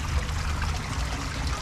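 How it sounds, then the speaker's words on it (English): Water from a pond's return pipe, fitted with bends, jets steadily into the pond with a constant close rushing splash and no pauses. "Now the water is jetting in"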